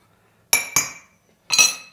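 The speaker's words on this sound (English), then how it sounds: "Then grab a fork and mix all of these dry ingredients together." A fork clinks against a cup while mixing dry cake ingredients: two quick bright taps, a pause, then a third ringing clink, close and clear in a quiet room.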